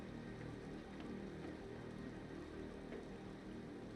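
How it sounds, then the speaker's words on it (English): Faint, steady rain hisses in the background of the video game Planet Crafter, a soft continuous wash with no voices. "It's raining."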